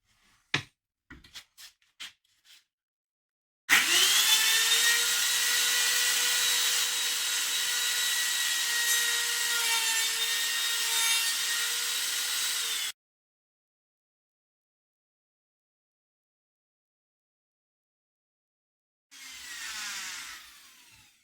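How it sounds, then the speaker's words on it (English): A wood router cuts a guitar body along clamped wooden guide pieces, starting with a few sharp knocks, then spinning up into a loud, sustained high whine for about nine seconds before stopping, and a brief second burst follows near the end. "I'm just going to clamp a piece of wood on each side as I route it."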